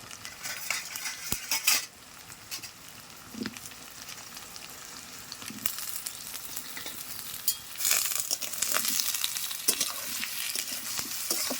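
Potatoes and onions fry in a pan while being stirred, mixing a continuous sizzle with repeated scraping and metal clinks of a utensil against the pan, close and busy throughout, with no talking.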